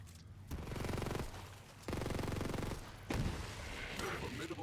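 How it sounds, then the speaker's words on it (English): Torrent SMG from Borderlands 3 firing in three sustained rapid bursts, loud and close, the shots rattling together as a dense stream with brief pauses between volleys. "this is the torrent. It's probably one of the other better doll SMGs. It's kind of slow because it has this weird kind of spiral pattern"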